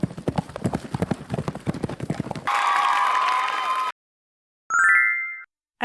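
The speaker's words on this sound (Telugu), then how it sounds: "క్లేప్ క్లాప్ క్లేప్ క్లాప్. గుర్రాలు ఎలా పరిగెత్తుతాయి?" Horse hooves clip-clop in a fast, even galloping rhythm for about two and a half seconds, then a brief burst of crowd applause and a rising chime follow.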